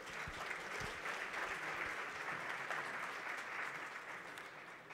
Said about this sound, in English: I do believe they do deserve a bigger round of applause.